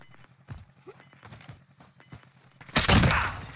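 Gunfire in Call of Duty Warzone: scattered close shots and thuds give way to a loud burst of sustained firing at the end.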